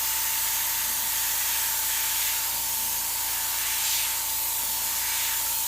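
An airbrush sprays paint while painting an angler fish, a steady bright airy hiss running continuously and fairly close, with a faint low hum beneath.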